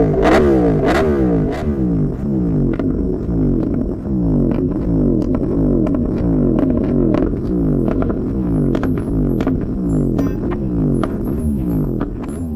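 A Yamaha R1M motorcycle fitted with a titanium exhaust accelerating hard on a road, its engine note rising and falling in repeated revving sweeps, loud and close with no voices.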